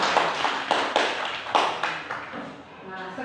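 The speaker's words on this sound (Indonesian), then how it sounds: "tepuk tangan untuk kelompok 3" Schoolchildren clapping for a group in a classroom, a short burst of uneven claps that thins out and fades after a few seconds, with some voices mixed in.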